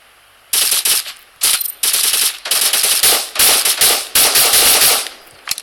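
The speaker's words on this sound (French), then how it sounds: "ça tiraille, mais ça tiraille de ouf" Automatic gunfire in the battle royale video game Cyber Hunter, repeated loud rapid bursts of shots separated by brief pauses, dense and close without talk.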